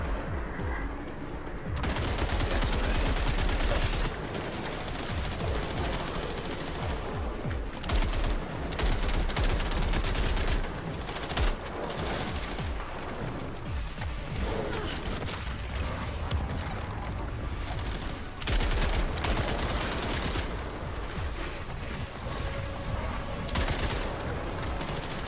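Dense automatic and single gunfire from the co-op shooter game Toxic Commando, rattling in loud overlapping bursts and booms almost continuously throughout, with no voices.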